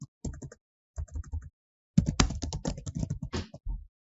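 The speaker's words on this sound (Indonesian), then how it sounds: "Jadi saya cukup ketik new list of string." Quick bursts of clattery keystrokes on a computer keyboard, close and crisp, coming in short runs separated by brief pauses, with a longer rapid flurry in the middle, and no talking.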